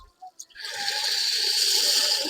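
Water from a glass pours steadily into a cooking pan for sweet methi vermicelli, a continuous splashing rush after a couple of faint clinks, with no talk.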